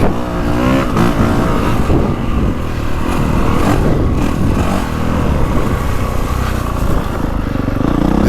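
A 2025 Honda CRF450R Works Edition dirt bike on its stock engine map 1 revs loud and close, a continuous raw engine roar with rising and falling throttle and no break.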